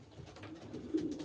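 A racing pigeon gives a brief, soft, low coo inside a loft, faint and close, lasting about a second.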